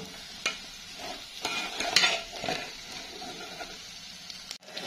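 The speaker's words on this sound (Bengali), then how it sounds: "ভালো করে চাউলগুলো ভালো করে নাড়িয়ে নিতে হবে, উলট পালট করে।" Rice grains frying and being stirred in a pan for restaurant-style polao, scraping strokes and a low sizzle repeating at an uneven pace, fairly quiet, with no talking.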